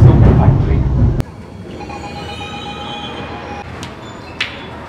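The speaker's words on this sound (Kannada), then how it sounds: "ಈಗ ನಾನು sandal soap factory metro station reach ಆದೆ" A Bangalore metro train pulls into Sandal Soap Factory station. A loud, close rumble drops away after about a second, and thin wheel squeals and a few sharp clanks follow over a quieter, rolling hum.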